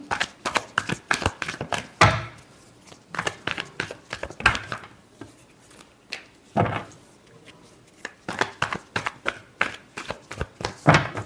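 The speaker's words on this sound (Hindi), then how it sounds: "Last shuffle." A tarot deck being shuffled by hand, bursts of riffling and card slaps in rapid rhythmic clusters with short pauses between, close and fairly loud, with no voice over them.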